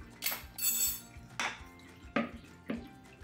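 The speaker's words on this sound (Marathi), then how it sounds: "एका भांड्यावरती मी हे स्टेनर म्हणजे चाळणी ठेवली आहे बारीक आणि त्यामध्ये आता आपण हे केलेली प्युरी गाळून घेऊयात" A fine metal strainer sits over a pot while tomato puree is pushed through it, making several clanks and scrapes of metal on metal at uneven intervals, close by, with no talking.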